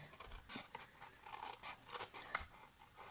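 Scissors snip through paper card stock while a handmade business card holder is cut into shape, a string of short, crisp cuts and rasping slides heard up close and quiet, with no talking.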